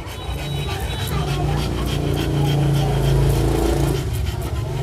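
An American Bully dog pants in a hot climate with steady, close, rapid breaths. Low background rumble runs underneath, and a person talks nearby.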